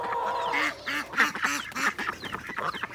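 Ducks in a backyard flock quack in a steady run of short, nasal calls against a constant outdoor background, moderately close.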